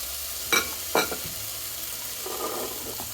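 Tomatoes and spices hit a hot pan with carrots for couscous, giving a soft steady sizzle with a couple of louder clattering stirs near the start and gentle scraping later, no talk.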